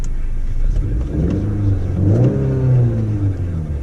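A 2019 Honda Accord 2.0T engine revs up and settles, a steady low rumble swelling and easing over a few seconds, close by with no talking.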